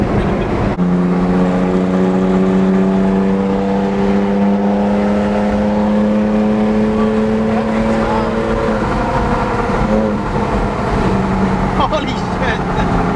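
A 2017 Toyota Tacoma with a Carven cat-back exhaust system drones loudly with a steady low rumble and a slight rise in pitch, close by, with voices mixed in.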